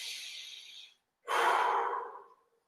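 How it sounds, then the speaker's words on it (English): Two deep breaths taken during an exercise circuit: a long exhale, a brief pause, then a stronger, louder in-and-out breath, close to the mic with no talking. "Deep breaths."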